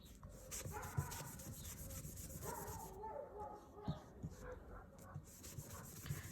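A brush rubs ink onto a card background piece in soft, repeated scratchy strokes, faint and close, with occasional light taps.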